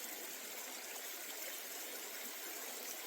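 Water runs steadily from a tap during a wet shave with Phoenix shaving soap and a Frank's G9 knot brush, a constant close hiss with no pauses and no voices.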